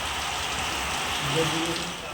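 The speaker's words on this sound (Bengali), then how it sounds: "তো বন্ধুরা দেখতেই পাচ্ছ কত বৃষ্টি পড়ছে, সকাল থেকে শুরু হয়েছে বন্ধুরা, প্রচণ্ড বৃষ্টিপাত" Heavy monsoon-style rain pouring steadily onto a courtyard and a parked vehicle, a dense continuous hiss close by, with a voice talking faintly over it.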